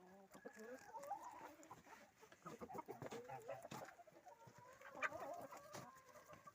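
Chickens cluck steadily nearby, overlapping one another in a busy farmyard with geese about, and someone talking now and then over them.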